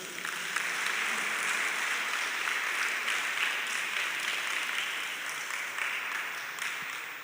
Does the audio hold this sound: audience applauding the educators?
yes